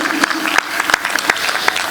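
An audience at a Maha Shivratri Mahotsav poetry event claps in a brief, uneven burst of scattered hand claps, with a voice faintly audible under the clapping.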